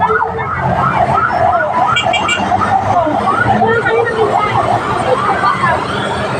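A loud fire truck siren wails in repeated rising and falling sweeps at a residential fire scene, close by, with road traffic and people talking over it.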